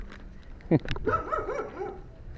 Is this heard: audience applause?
no